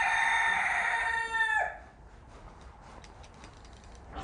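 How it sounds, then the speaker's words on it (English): A rooster crows loudly and close by, one long call that ends abruptly, leaving a quiet outdoor background. "I'm going to kill that rooster."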